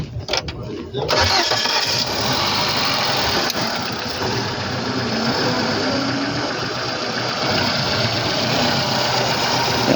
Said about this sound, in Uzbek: Motorlardan bir yoqib ko'rsatib beramizmi?